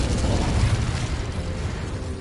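Incendio fire spell cast in Hogwarts Legacy, a sustained roaring, booming burst of flame that stays loud and dense throughout without letup.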